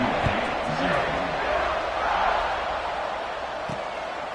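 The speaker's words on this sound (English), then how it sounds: "this crowd is buzzing after that last score." Crowd noise fills a football stadium during a Canadian Football League game after a score, a steady broad roar that swells and eases without stopping. A commentator talks over it throughout.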